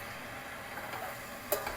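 A spoon stirs chickpea curry in a pan, a soft scraping over a low steady simmer, close and quiet, ending with a light clink.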